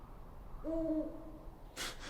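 An owl in the adventure game Syberia 2 gives a single low, drawn-out hoot near a large mountain-top building, faint over quiet ambience, followed by a soft breathy rush.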